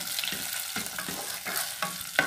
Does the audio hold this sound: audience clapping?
no